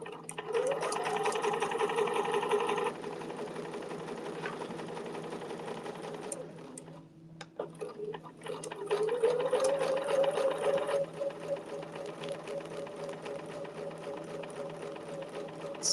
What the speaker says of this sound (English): I'm going to stitch down, and I'm going to stop right there where it says 8 point.